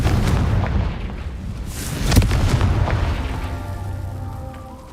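Confringo fire spell cast in the Hogwarts Legacy video game during Merlin trials, a sharp blast peaking mid-clip over rumbling low booms that fade into a sustained tonal hum.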